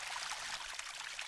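Spring water flows out of the ground in an Indian watershed, a steady close trickle and pour with a soft bubbling hiss and no talk.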